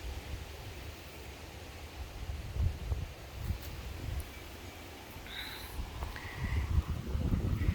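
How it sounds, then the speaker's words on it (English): Gusty wind buffets the microphone outdoors, low rumbling surges rising and falling, with a few faint chirps high above. "today folks it's quite windy out here"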